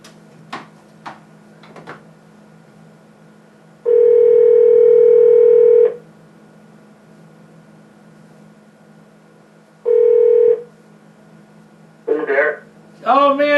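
A telephone handset gives a steady dial tone for about two seconds and then a shorter burst of tone, with clicks before and some tones near the end.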